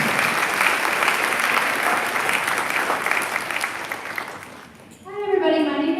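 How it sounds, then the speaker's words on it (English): A school freshman orientation audience gives a sustained round of applause for students, dense clapping from a crowd filling the room at steady loudness before it dies away, followed by a voice starting to speak. "Let's give them a round of applause."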